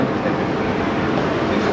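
A Thai electric skytrain running, a loud, steady rushing rumble of the moving train heard from close by and unbroken throughout, with no talk over it.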